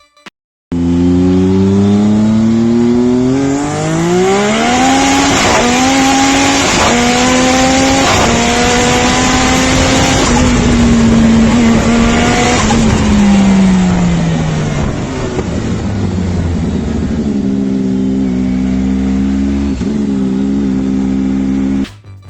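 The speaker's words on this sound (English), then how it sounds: "Looks like a car, sounds like a bike." A rear-wheel-drive GTR engine revs hard and loud with a bike-like wail, climbing and falling in pitch through sustained, close revs with no talking.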